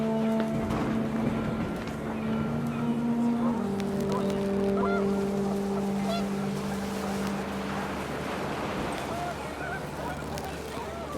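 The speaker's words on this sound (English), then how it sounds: "The wind picked up and panicked geese appeared and quickly went" Panicked geese honk in the video game What Remains of Edith Finch while wind blows across an outdoor scene, their calls rising over a steady, full background that runs through the whole stretch.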